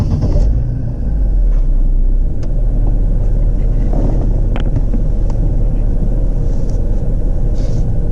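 Engine of an Envoy with low oil pressure running after a restart, a loud steady low rumble and hum throughout with a few faint clicks, no voices.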